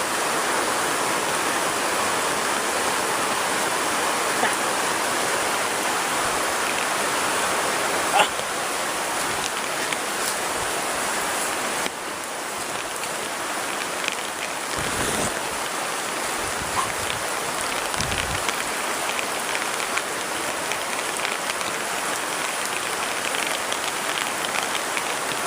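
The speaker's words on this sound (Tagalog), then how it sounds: "Sobrang lakas na ng ulan dito." Heavy rain pours down steadily in a dense, constant hiss that stays loud and close throughout, with a few faint voices briefly audible under the downpour.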